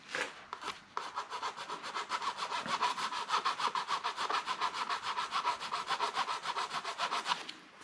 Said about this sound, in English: I go over to filing.